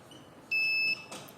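A steady electronic buzzer tone from a buzzer wired to a microcontroller sounds for about half a second, clear and close, followed by a short rustle.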